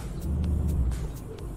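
Simulated truck engine from Euro Truck Simulator 2 drones at a low, steady rumble while driving, with faint periodic clicks over it and no speech.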